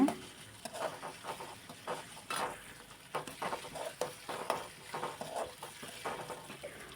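Chopped tomatoes sautéing with garlic paste in a pan for mushroom gravy, with irregular stirring scrapes and soft sizzling patter, close and moderately quiet.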